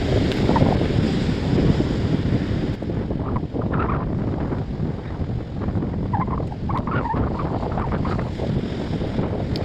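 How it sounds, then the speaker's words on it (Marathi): Strong coastal wind at Harihareshwar buffets the microphone in a loud, continuous roar with gusty swells throughout, and no voices are heard. "हवेचा खूप आवाज येत असेल ना"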